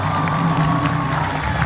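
A studio audience at an Indonesian TV talk show claps and cheers in a continuous crowd roar over a low steady hum, with no clear pauses across the short stretch.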